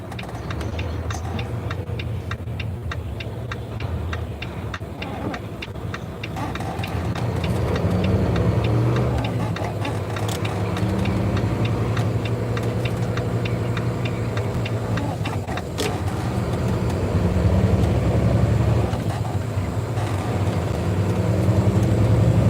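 A refrigerated semi truck's engine runs steadily with a low rumble and rhythmic ticking, growing slightly louder toward the end, with no speech.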